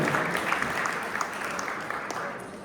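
An audience applauds at a 2025 appreciation evening for Audru culture and sports contributors, a dense, steady wash of clapping from a large crowd that holds evenly loud throughout.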